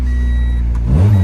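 A JDM Honda Integra that has sat unused for about two months cranks and fires up, its low engine rumble swelling into a louder idle near the end.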